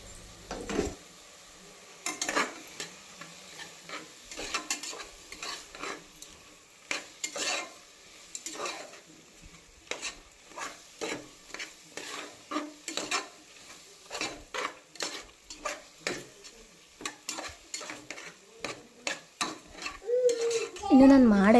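Cut vegetables for pulao are stirred as they fry in a pan, with repeated spatula scrapes and clinks over a soft sizzle, ending in a brief louder stir.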